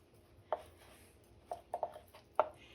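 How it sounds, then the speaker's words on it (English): A knife cuts through a firm seedless watermelon on a board, giving four crisp, separate chops spaced unevenly over a few seconds against a quiet background. "You can hear my knife slicing through it."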